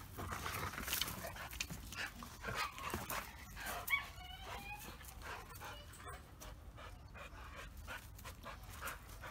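Dogo Argentino dogs panting hard while playing rough outdoors: rapid, breathy panting throughout, with scattered whimpers and yips, close and fairly quiet.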